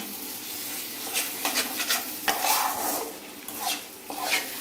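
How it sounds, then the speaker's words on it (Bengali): Spice mix with tomato, salt and chillies being stirred and fried in a pan, a spoon scraping and clinking against the metal in repeated strokes over a soft sizzle, close and moderately loud. "এবার মশলাটাকে ভালো মতো কষাবে"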